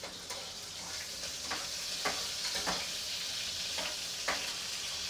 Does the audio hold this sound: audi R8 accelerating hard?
no